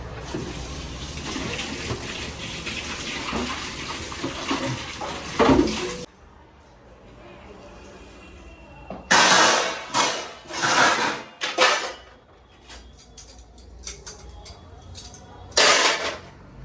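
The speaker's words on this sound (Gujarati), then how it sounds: "મોટા બધા વાસણ ઉકેરી નાખીએ" Large cooking pots and dishes being washed for a big family meal order: metal pans clanking and scraping under running water, with loud bursts of splashing and knocking after a quieter stretch, close by.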